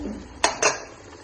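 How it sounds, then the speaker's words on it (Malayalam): The metal lid of a pressure cooker, used for chickpea curry, gives two quick clanks close by, one right after the other, while a low kitchen background murmurs underneath. "കുക്കറൊന്ന് തുറന്ന് നോക്കാം."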